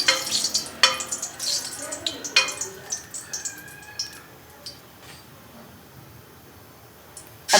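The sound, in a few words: green cardamom sizzling as it is sautéed in a pan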